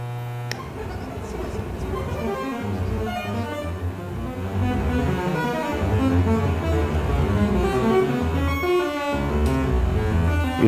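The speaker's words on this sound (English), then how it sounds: "I had a random voltage generator based on a sample and hold in the synth" A synthesizer's random voltage generator, built on a sample-and-hold circuit, steps through a continuous run of randomly changing pitched tones at moderate volume, with no talking over it.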